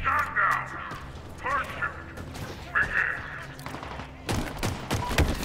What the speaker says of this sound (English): Oh, the sniper got me.